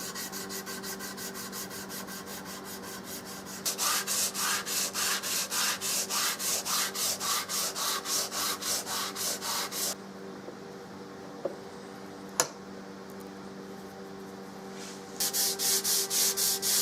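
Hand sanding a wooden Remington 700 rifle stock with 180 grit sandpaper, loud close rhythmic back-and-forth rasping strokes in two long bursts separated by a quieter pause with a few knocks.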